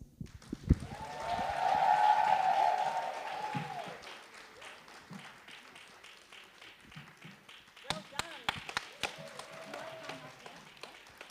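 Applause from an audience at a book launch as certificate recipients are honoured, a dense burst of clapping that swells and then fades over several seconds, followed by scattered claps and low murmuring.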